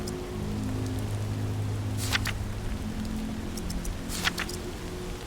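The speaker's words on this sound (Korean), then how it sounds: "비가 오네요." Steady rainfall in the VR zombie game Walking Dead Saints and Sinners, a soft continuous patter with a low hum underneath and a few brighter drip or splash accents.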